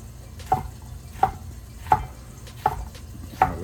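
Knife chopping jalapenos into rings on a cutting board, five sharp evenly spaced chops close up over a low background hum.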